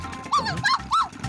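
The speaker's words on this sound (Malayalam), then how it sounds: "ഈ ഡോഗ് എന്തിനാ എന്റെ പുറകെ ഓടി വരുന്നേ?" A cartoon dog barks while chasing someone, three short, sharp yelps spaced about a third of a second apart, close and loud, in an animated Motu Patlu episode.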